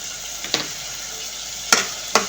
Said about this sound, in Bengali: এগুলো নেড়ে ছেড়ে দিয়ে এভাবে কষিয়ে নেব